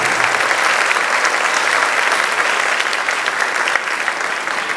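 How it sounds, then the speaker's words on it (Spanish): A church congregation gives a big round of applause during a sermon, dense loud clapping sustained throughout without letting up. "Denle otro aplauso más grande."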